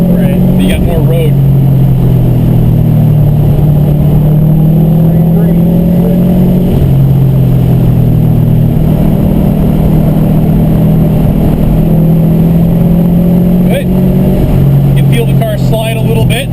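Subaru STI engine pulling hard on an autocross course, a loud sustained drone that rises and falls with throttle through corners, continuous for the whole stretch with a voice talking over it.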